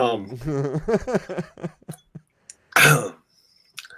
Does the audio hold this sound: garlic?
no